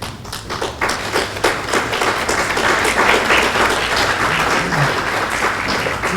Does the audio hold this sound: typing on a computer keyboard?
no